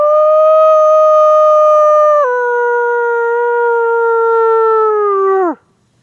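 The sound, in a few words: person imitating a lone wolf howl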